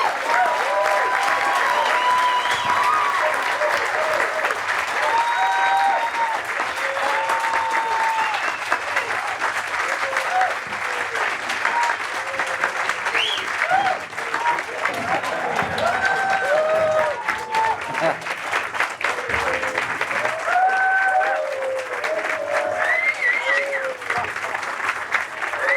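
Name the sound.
audience applause for Stefani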